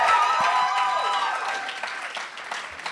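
Applause from a live audience at The Bedford after a band's set, a dense wash of clapping that gradually thins and fades across a few seconds, with some tonal sound lingering underneath at first.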